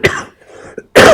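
A man on a Spanish-language culture programme gives a sharp cough, then a softer one, and after a short pause a louder harsh cough or throat clearing. The sounds are close and loud, with no speech.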